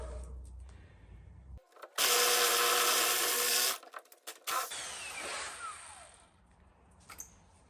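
A drill bores into concrete and strikes rebar, giving a loud two-second burst of grinding followed by a few shorter, scraping stops and starts at moderate distance.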